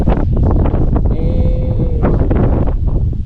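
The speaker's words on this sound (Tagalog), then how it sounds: "Mas matindi rito ang simoy ng hangin." Strong wind at Caliraya Lake in the mountains buffets the microphone in loud, gusty rumbles, with a faint high whine rising briefly through the middle.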